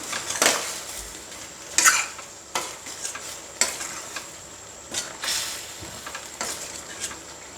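Chicken pieces are stirred with salt in a pot, producing repeated loud scraping and clanking strokes of a metal spoon against the vessel at a loose rhythm over a low sizzle.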